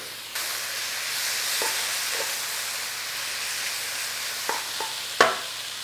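Garlic and chilli sizzle steadily in a hot frying pan for several seconds, a continuous bright hiss broken by a few sharp scrapes and clicks of stirring near the end.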